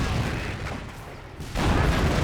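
A StuG assault gun firing and its shell exploding in the Company of Heroes video game: a muffled rumble, then a sudden loud blast that keeps roaring to the end, with no voices.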